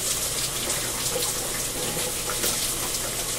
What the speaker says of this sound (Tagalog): Shampoo muna. Yan. Tapos banlaw.